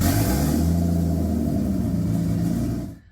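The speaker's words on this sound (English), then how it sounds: "The car's also still pretty loud with it being just a straight open dump on the turbo" A turbocharged car engine running on a straight open dump off the turbo, loud and steady with a deep rumbling drone, close by throughout before cutting off abruptly near the end.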